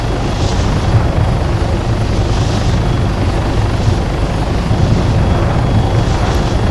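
Steady, loud helicopter rotor thrum with a continuous engine drone, unbroken throughout, in the video game Arma 3.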